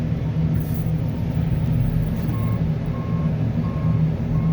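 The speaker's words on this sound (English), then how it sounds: "we'll get some more trucks dumping in here" A dump truck delivering number 3 limestone ballast for a railroad idles with a steady low engine rumble while its reverse alarm starts up partway through, beeping in a regular, evenly spaced rhythm nearby.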